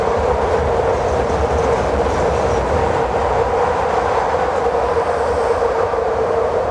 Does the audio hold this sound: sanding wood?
no